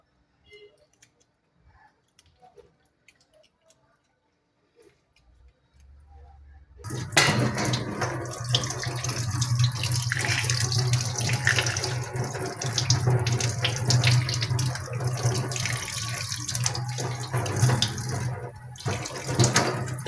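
Tap water gushes loudly and steadily into a sink while fish are washed for frying, starting abruptly after several seconds of near silence and running continuously to the end.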